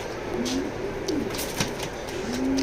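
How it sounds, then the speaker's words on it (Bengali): Racing pigeons cooing in a loft, several low, rolling coos repeating close by over a soft background with a few faint clicks and rustles. "নরটা খুব তেজি এবং বড় কবুতর"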